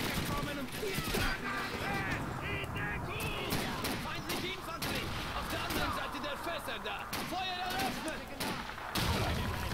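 Rapid gunfire and explosions from the World War II shooter game Call of Duty 2 crackle in bursts, with someone talking excitedly over the steady battle noise.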